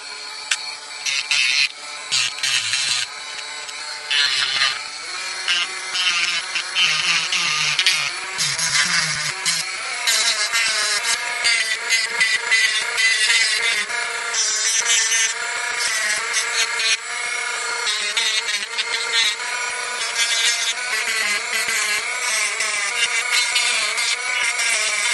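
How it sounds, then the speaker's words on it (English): A Dremel rotary tool running on a low setting trims a plastic smart key for a Fisker Ocean, giving a steady, close, high-pitched whine that grinds on continuously with small fluctuations as it bites. "Now we're going to use this Dremel on a low setting so that hopefully it doesn't burn"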